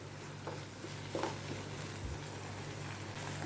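Tomato and onion with a pinch of salt sauté in a pan for masala macaroni pasta, stirred now and then; a faint, steady sizzle runs throughout, with a few soft scrapes from the stirring.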